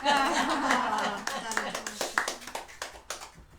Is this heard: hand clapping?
yes